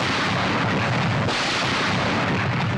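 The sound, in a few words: artillery guns firing in war film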